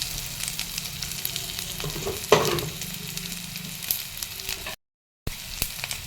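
Chopped ingredients fry in a pan with a steady close-up sizzle, broken by a sharper crackle as something is stirred or added, then a brief silence before the sizzling resumes. There is no talking.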